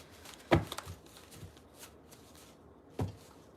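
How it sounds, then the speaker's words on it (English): Tarot cards are shuffled by hand in a quiet room, a few soft riffles and sharp slaps of the deck spaced apart, near and fairly faint. "I'm just shuffling the deck."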